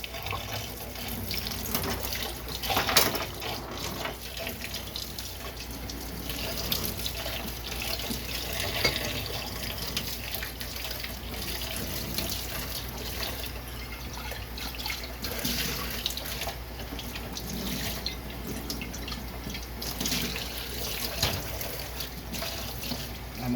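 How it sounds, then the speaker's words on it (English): Water runs continuously from a tap while labware is rinsed during sterilization for starting phytoplankton cultures, a steady close hiss and splash with small clinks, lasting throughout. "I'm always rinsing."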